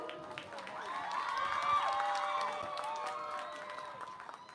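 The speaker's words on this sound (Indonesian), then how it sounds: "Mana tepuk tangan supporter?" Supporters clap and cheer for a team at a school quiz competition opening, a steady wash of applause that swells toward the middle and then eases off, with scattered shouts.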